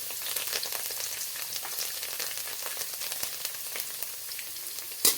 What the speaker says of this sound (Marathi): छानपैकी थोडीशी मिरची अशी भाजून घ्यायची आहे तेलामध्ये